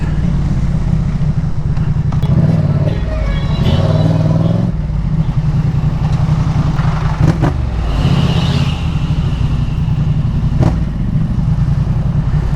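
Steady road traffic heard from a moving motorcycle, a Yamaha MT-03, with a constant loud engine and wind drone, passing vehicles swelling in and out, and brief clattering bumps throughout.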